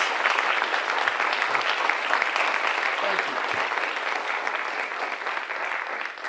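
An audience at a college honors and awards ceremony gives a warm, sustained round of applause, loud and even throughout and easing slightly toward the end.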